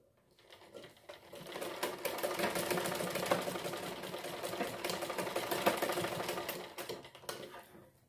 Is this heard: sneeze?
no